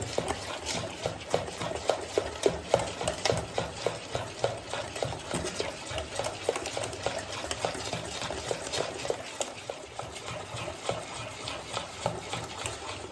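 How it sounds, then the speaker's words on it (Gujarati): Khaman batter stirred steadily in one direction in a bowl, a rhythmic wet swishing and clicking of the spoon repeated continuously at close range, fairly soft. "હવે આ બેટરને આપણે થોડી વાર એક જ દિશામાં હલાવી લઈશું."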